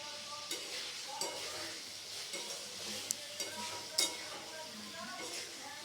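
Fried green banana pieces are stirred in a pan, giving a quiet sizzle with soft scraping and a few light clinks of the spoon against the pan.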